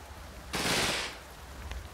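Gunfire in the video game Combat Mission Red Thunder comes as a single sharp, crackling burst about half a second long, with faint rumble before and after.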